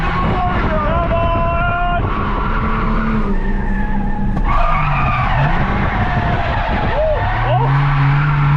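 Ford AU Falcon drift car skidding at Lakeside, its tires squealing and howling in long, wavering pitches over a loud, constant engine roar, heard close up from inside the car.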